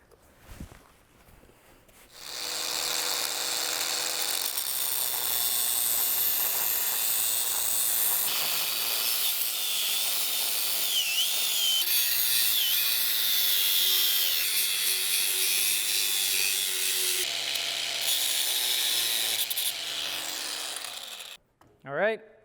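Power tool cutting through steel tubes of a Harley-Davidson Sportster frame during a hardtail conversion, a loud continuous grinding whine running steadily for about eighteen seconds, then cutting off, with brief talk at the start and end.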